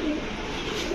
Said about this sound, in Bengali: নরে যে ডাকা শুরু করছে দর্শক